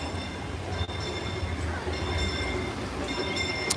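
A Disneyland Railroad train rumbles past close overhead with a steady mechanical roar, metallic squeals and rattling wheels over the track.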